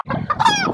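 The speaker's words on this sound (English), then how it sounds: "All these are Bantam birds, guys, so you can kind of get an idea of what we are working here in 2025" Bantam chickens, a short loud clucking call with a rising squawk from a rooster or hen, close by and alone.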